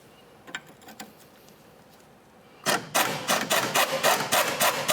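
Two 14mm wrenches work loose a sway bar link on a Scion xB, with a few faint metallic clicks at first, then a run of loud, rapid ratcheting rasps close by.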